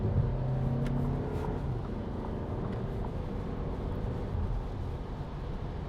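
A 2024 Audi Q3 40 TFSI accelerating onto a highway, heard from inside the cabin as a steady low engine drone mixed with road and wind noise.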